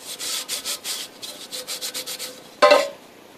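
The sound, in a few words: rubbing a metal alloy piece with fine sand to finish it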